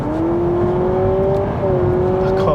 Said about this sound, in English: Can't beat, you cannot beat that fake engine sound.